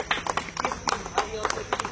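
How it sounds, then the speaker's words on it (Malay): Audience applause at an employee excellence awards dinner, heard as a burst of many hands clapping with sharp irregular transients, moderately close, and a voice briefly audible underneath. "berikan tepuk tangan gemuruh kepada semua"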